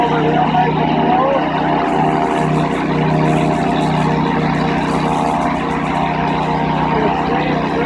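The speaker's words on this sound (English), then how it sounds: "as you can see here, we're using a turbo nozzle. We go over real nice and slow." A pressure washer fitted with a turbo nozzle moves slowly across a house, giving a loud, constant motor drone with a steady hissing spray layered on top.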